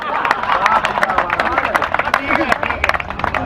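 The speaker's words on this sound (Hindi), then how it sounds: "तो ताली मैं बजाऊं तुम्हारे लिए।" Applause and clapping from a live audience at a Hindi comedic poetry recital (kavi sammelan), a dense patter of many hands filling the whole stretch, loud and continuous with crowd murmur beneath.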